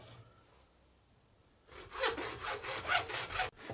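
A handsaw cuts through goat bone during butchery, starting after a quiet lead-in with a steady run of about six loud, close rasping strokes in even rhythm, then stopping abruptly.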